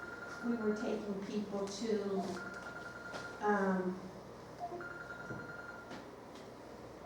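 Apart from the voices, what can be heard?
mobile phone ringing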